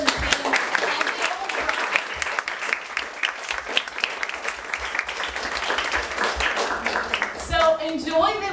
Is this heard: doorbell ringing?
no